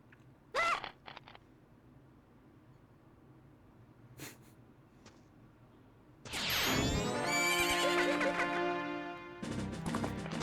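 A mare neighs in Zelda: Majora's Mask, with short snorts and breathy sounds early on, then a loud, drawn-out whinny with strained, rising tones fills the last four seconds.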